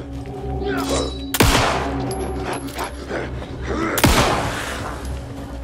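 Gunfire aimed at enemies in Alan Wake II: two loud, sharp shots a few seconds apart over a busy layer of game ambience and low rumble.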